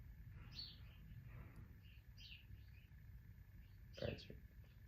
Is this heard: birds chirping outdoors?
yes